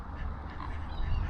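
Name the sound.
ducks quacking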